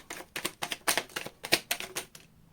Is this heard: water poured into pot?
no